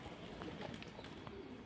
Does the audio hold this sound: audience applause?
no